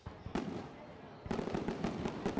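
Fireworks burst after a night baseball game: a single sharp bang followed by a dense run of rapid crackling explosions, loud and close, with some crowd voices mixed underneath.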